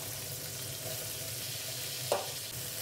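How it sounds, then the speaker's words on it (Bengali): Diced potatoes fry in a pan with a soft, steady sizzle at moderate distance, one brief scrape or clink near the end, and no voices. "আলুগুলো একটু লাল লাল করে ভেজে নিচ্ছি।"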